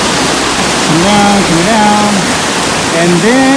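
Water rushing down a hiking-trail channel toward Rampart Reservoir in Colorado, a loud, continuous roar heard close up beneath someone speaking.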